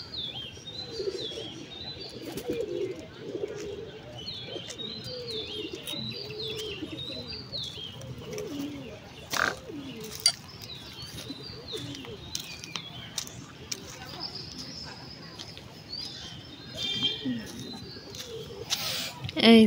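Pigeons coo in repeated soft phrases near a garden on a morning, with chirping birds and occasional wing flaps over a steady low outdoor background, a few sharper knocks scattered through.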